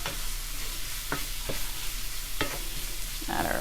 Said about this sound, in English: Add our mushrooms with our onions. Let that nice and warm up a little bit.